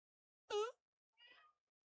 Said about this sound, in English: she goes, meow, meow, meow, like she's actually in pain